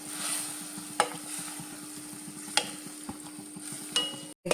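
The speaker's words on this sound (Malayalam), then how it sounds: "നല്ലോണം മിക്സ് ചെയ്തിട്ട് ഇത് മൂടി വെച്ചൊന്ന് വേവിച്ചെടുക്കാം." A spoon stirs a lemon curry mixture in a pan, scraping strokes with a few sharp clinks against the pan over a low background hum, close and moderately loud, with no one speaking.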